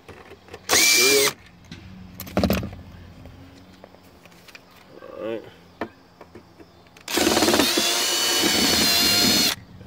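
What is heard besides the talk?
power drill removing screws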